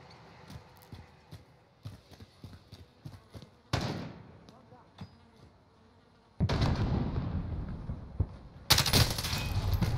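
Handgun fire in a first-person shooter, with sharp shots spaced irregularly early on, then louder, denser bursts of gunfire toward the end.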